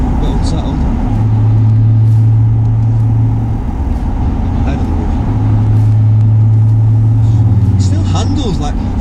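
Nearly two-ton 1995 Jaguar driven hard on a rough, bumpy road, with loud continuous engine drone and rising tonal revs inside the cabin.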